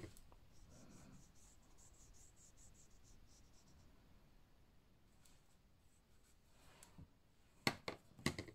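Pencil strokes scratch across paper while tracing around guide lines during a papercraft colouring session, a soft steady rasp running throughout, ending with a few sharper taps near the close.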